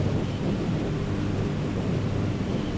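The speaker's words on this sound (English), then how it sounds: "as you can hear. We got a little bit of storms over there." Thunderstorm rumble in Microsoft Flight Simulator during a Cessna 310R flight, a steady low roar of storm, rain and wind mixed with aircraft noise, continuous and fairly loud throughout.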